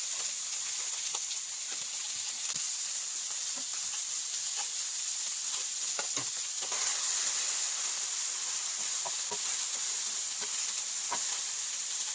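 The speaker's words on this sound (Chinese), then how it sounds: "放入鱼，将鱼煎至两面金黄，看看煎制的过程吧" Steady sizzling hiss of a stuffed black grouper pan-frying in a little oil in a hot wok, with scattered small pops and crackles throughout.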